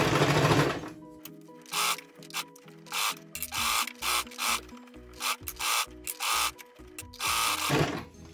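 A sewing machine stitches a fabric belt loop and backstitches, giving rhythmic bursts of rapid mechanical chattering separated by short pauses, close and clear.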